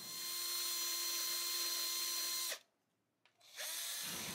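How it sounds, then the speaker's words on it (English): A power drill whines steadily at high speed while drilling a hole in a guitar thickness template, cuts out briefly, then spins up again, close and loud. "We are going to drill a hole here."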